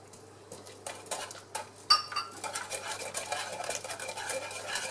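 Butter and lemon stirred in a pan for a lemon tart, with a steady scrape and clink of utensil against metal and a sharper knock near the start.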